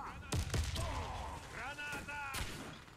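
Gunfire in the online shooter Warface comes as a few sharp, booming shots spread over the moment, heard under players' voices.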